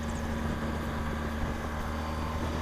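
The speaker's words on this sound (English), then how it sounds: "On this screen I can hear the wind" Steady broadband wind rush on a 2013 BMW R1200 GS motorcycle at speed, a constant loud roar with a low engine hum beneath, unbroken throughout.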